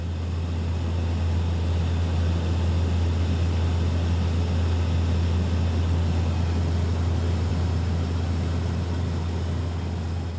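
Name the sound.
aircraft flying over Antarctica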